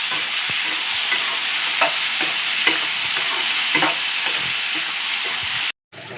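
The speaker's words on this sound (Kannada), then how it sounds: "ಚೆನ್ನಾಗಿ ಮಿಕ್ಸ್ ಮಾಡ್ಕೊಳ್ಳೋಣ." A spoon stirs a chana masala mixture in a pan. Steady sizzling runs under scattered soft scraping strokes with no voices, and it cuts out briefly near the end.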